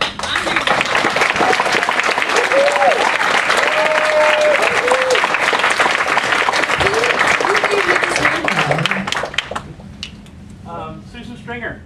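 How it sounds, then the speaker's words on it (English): A convention panel audience at Dragon Con gives a long, loud round of applause with cheering voices mixed in. It fades near the end, and a voice then speaks. "we're going to give her a round of applause"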